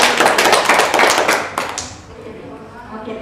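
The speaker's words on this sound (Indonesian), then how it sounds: "Kita tepuk tangan untuk mama." Hands clapping in a classroom during a microteaching lesson, a burst of group applause with dense taps for about a second and a half, then fading out under quieter room sound.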